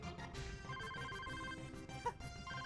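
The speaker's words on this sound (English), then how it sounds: "A phone call." A phone ringing in the video game Mischief Makers, a repeated electronic ringtone melody of bright beeping tones over faint background game sound, with no talking.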